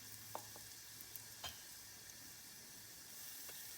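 Asafoetida dropped into hot oil for a pea and moong dal kachori filling, a soft steady sizzle with a few faint clicks and stirring taps, close and quiet.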